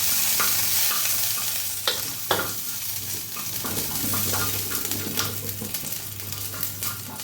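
Chopped garlic cloves fry in hot oil for chilli chicken, a steady close sizzle broken by the scrape and clatter of stirring, with no talk.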